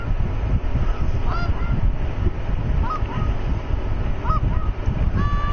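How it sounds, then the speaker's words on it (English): Geese honk repeatedly in a hunting game set outdoors, several loud nasal calls rising over a constant, dense ambient wind-and-nature bed, with no talking. "Now usually geese are flying over."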